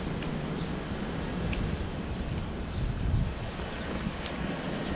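Strong storm wind in Saudi Arabia roars steadily and loudly, buffeting the microphone with continuous low rumbling gusts and no voices.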